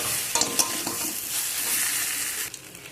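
Fried fish, potatoes and spices being stirred together in a pan: a close, hissing sizzle with quick scraping strokes early on, settling into a steady fry before easing off.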